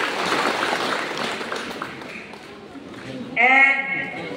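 An audience applauds guests with a dense burst of clapping that gradually thins out, then a voice breaks in near the end.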